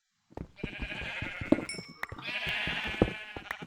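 Sheep in the Minecraft video game bleat repeatedly, close and clear, with several wavering calls overlapping amid soft clinks and clicks.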